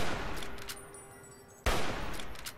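A Paciencia rifle fires in Fallout New Vegas, one sharp loud shot cracking out partway through, followed by a decaying echo over quieter game ambience.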